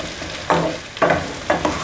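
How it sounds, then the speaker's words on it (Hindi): Onions frying in hot oil for a dhaba-style bhindi masala as they are stirred: three rhythmic scraping strokes rise over a steady, close sizzle. "और इसी ऑयल में हमने इसको फ्राई करना है"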